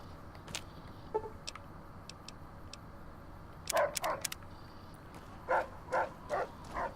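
Rex, a dog in the video game Fallout: New Vegas, gives a few sharp barks in two clusters, each a quick run of three or four yaps, over a quiet background with faint clicks and no speech.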